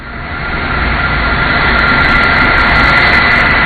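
A loud, steady jet roar from the Boeing 747 Shuttle Carrier Aircraft carrying a space shuttle on its back at Kennedy Space Center, holding strong and broadband with no voices.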